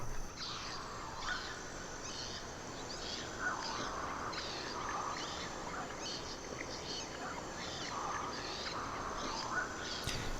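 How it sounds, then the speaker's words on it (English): Looped jungle ambience sample with a dense bed of insect hiss and repeating bird chirps and calls, faint and steady throughout. "this is just a sound of some jungle ambience here"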